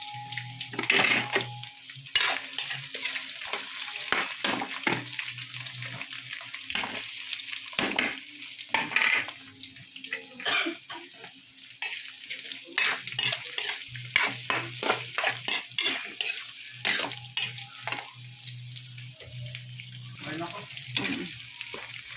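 Ginger and onion stir-fried in a wok for abalone, with steady close sizzling and repeated clattering stirs throughout, plus faint water sounds in the background.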